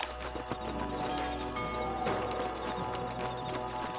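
Several horses clip-clop on hard ground in the Red Dead Redemption video game, a steady close hoof rhythm with a neigh over a dense, loud game soundtrack bed.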